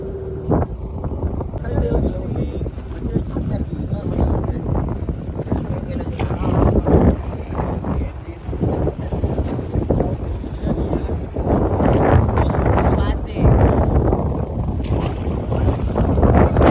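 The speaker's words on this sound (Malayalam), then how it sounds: "ഉള്ളിലോട്ട് കയറിയപ്പോഴേക്കും നല്ല കാറ്റൊക്കെയാണ്" Strong wind buffets the microphone far out at sea on a fishing boat, a steady roar with gusting surges, while the boat's running engine, motion and splashing rumble underneath.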